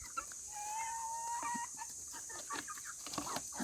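Chickens in their coop give soft, close clucks and a drawn-out tonal call, with scattered pecks and movement, and no speech.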